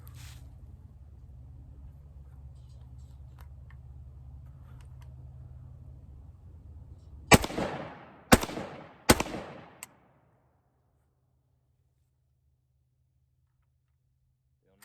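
A Zastava M90 rifle loaded with a Galil magazine fires three loud, sharp shots about a second apart outdoors, after a low idling hum, and then the sound cuts to silence.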